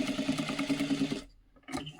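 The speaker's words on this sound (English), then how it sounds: "sew the Rigelin back, like close to the new seam" A sewing machine stitches a dress seam close to the rigilene, a quick rhythmic chatter for just over a second, then a pause and a brief restart.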